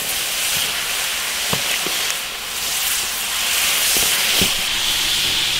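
Chopped chili sizzles in hot oil in an iron wok for a spicy fish dish, a loud steady hiss broken by scattered sharp pops and crackles.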